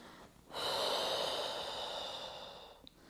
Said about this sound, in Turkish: Al nefes, ver.